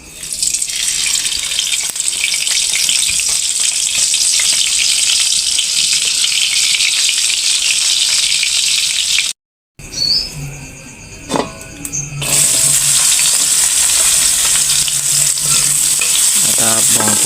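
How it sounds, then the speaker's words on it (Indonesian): Salted peda fish frying in a pan, a steady loud sizzle and crackle filling the clip, briefly cut off midway and then returning as strong as before, with no voices. "Kita goreng dulu ikan peda,"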